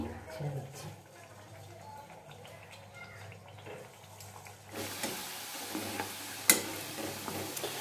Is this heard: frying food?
yes